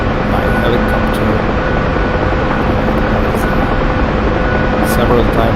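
Helicopter rotor and engine noise inside the DCS flight simulator, a steady dense broadband roar that holds at constant level throughout without pause.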